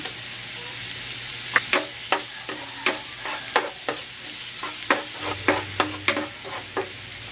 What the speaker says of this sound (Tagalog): Igigisa ko na tong luya. At ang bawang.